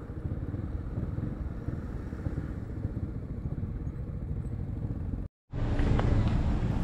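A scooter motorcycle's engine drones steadily and loudly while riding toward a parking spot, cuts out for a brief moment, then resumes with a rougher, busier tone as it is parked.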